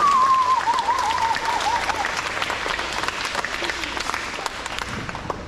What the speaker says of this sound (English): let's give them all applause for their hard work